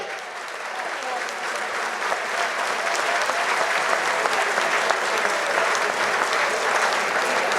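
An outdoor festival crowd at the 2019 Cabrales cheese competition applauds bagpipe bands with loud, dense, continuous clapping that swells slightly and stays strong throughout, with faint voices mixed in.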